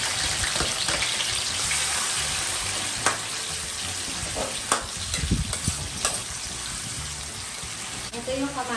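Mussels sautéing in oil in a pan for a Filipino ginisang tahong with kamias, a constant sizzle under a few sharp clicks and knocks of stirring, while a voice speaks over it.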